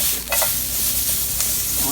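Peppers sizzle steadily in an oiled cast iron pan heated to medium-low or medium, with a few brief stirring scrapes rising over the continuous close frying hiss. No one speaks.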